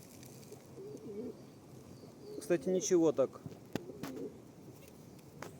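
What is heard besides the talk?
pigeons cooing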